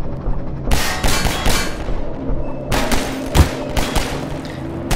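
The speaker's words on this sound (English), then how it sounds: "Stop shooting!" Rapid bursts of gunfire in Half-Life 2, loud and close, with sharp repeated shots clustered into two volleys separated by a brief lull.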